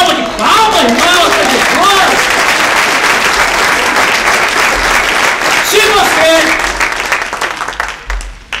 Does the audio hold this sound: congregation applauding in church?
yes